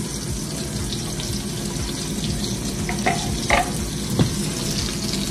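Onions and hamburgers sizzle steadily on a grill, a dense, close frying hiss running throughout, with a few brief clinks of utensils near the end and no talking.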